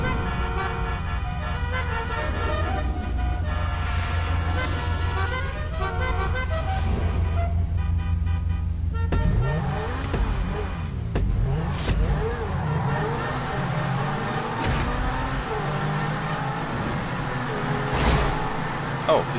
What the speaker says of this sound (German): ich fahre mit meinem Centauro